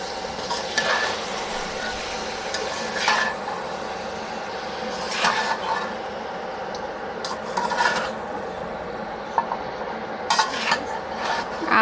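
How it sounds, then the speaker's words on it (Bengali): Jackfruit pieces are stir-fried in a pan, a spatula scraping and knocking against the metal in repeated strokes over a soft, steady sizzle. "এখন কাঁঠাল দিয়ে কষাবো"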